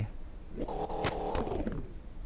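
A faint, buzzy video game car engine tone rises and falls in pitch once, with a couple of sharp clicks, sounding thin and synthetic.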